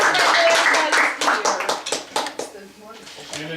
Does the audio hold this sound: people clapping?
yes